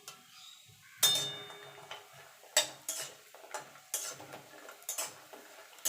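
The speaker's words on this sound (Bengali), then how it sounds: "দেখুন বন্ধু তেলটা গরম হয়ে গেছে, বড়িটাকে প্রথমে ভেজে নেব।" Lentil dumplings (bori) frying in hot oil in a home kitchen, with soft sizzling and repeated sharp clinks and scrapes of a utensil stirring in the pan, fairly close and clear, no talking.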